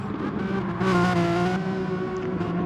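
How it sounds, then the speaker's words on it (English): A Renault Megane Trophy race car engine revs hard with a dense, buzzing roar that swells to a louder burst midway, then settles back into a sustained growl, close and loud without any talking. "Paddy seems to be revving that all over the place."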